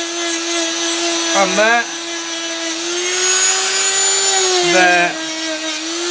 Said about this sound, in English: let the rolling Dremel do the work